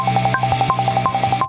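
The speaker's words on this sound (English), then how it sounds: "I turned up the metronome" A metronome used for drum tracking clicks steadily and rapidly at a fast even tempo, loud and close, with accented clicks recurring in a regular pattern.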